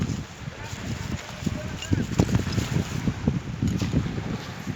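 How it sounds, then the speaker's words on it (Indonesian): Small 10 hp ting-ting fishing boat with its motor running, heard as a steady low rumble with irregular knocking pulses, close and fairly loud, mixed with wind buffeting the microphone and splashing water. "Kita naik kapal perahu ting-ting 10 PK"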